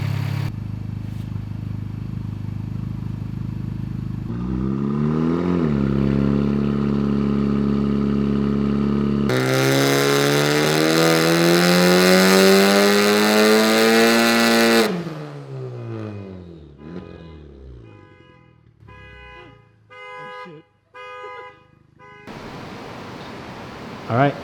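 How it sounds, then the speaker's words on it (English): Honda Civic Type R FK8 on a dyno: the engine idles, then revs hard through a long rising pull to a loud scream, falls off, and settles into a quieter idle with faint clicks and a voice near the end. "Car's finally on the dyno again."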